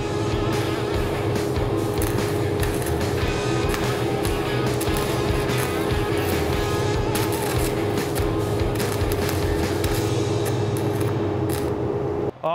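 Welder running at 120 using kitchen tongs as the rod to lay two beads at once: a steady, loud, continuous buzzing crackle with sharp sputtering pops, cutting off abruptly at the end.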